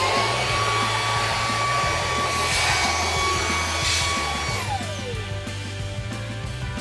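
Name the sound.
blower vac running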